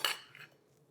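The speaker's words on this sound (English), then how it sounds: "Just mix it all together and then just add it to the ingredients, to the big bowl." Utensil scraping and clinking once against a bowl while mixing tomato fritter batter, a brief close clatter that quickly fades.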